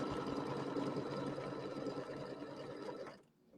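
An embroidery machine stitching across the top of a pieced quilt block, a steady fast mechanical whirr at low volume that winds down and stops near the end.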